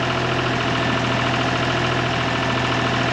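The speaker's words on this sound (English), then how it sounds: "put your foot on the dead man, you'll hear the engine rev up" A boom lift engine runs at a constant, loud drone with a low rumble, revved up by its foot pedal, close by and without talk.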